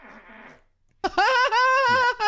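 A loud, sustained fart with a buzzy, tonal rasp, lasting about a second, preceded by a brief quieter stretch of muffled sound.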